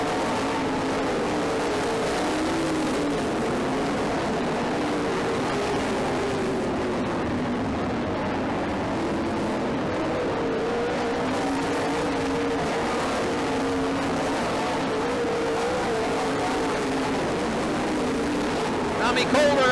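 Race cars on a racetrack make a steady, distant engine drone that swells and fades as they pass, with a commentator talking over the sound throughout.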